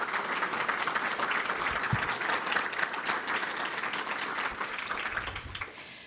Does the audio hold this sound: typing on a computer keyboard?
no